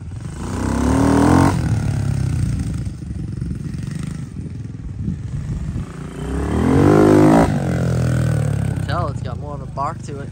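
A 2023 Kawasaki KLX110 dirt bike with a 143cc bore kit, Mikuni VM26 carburetor and BBR U-Flow exhaust barks and rumbles with a couple of rising revs, while people talk over the engine noise.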